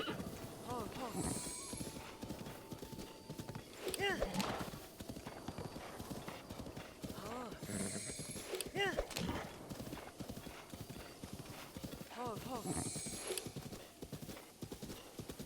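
Horse galloping in the video game Zelda: Breath of the Wild, with steady rhythmic hoofbeats throughout, several whinnies and snorts, and a player talking over the action.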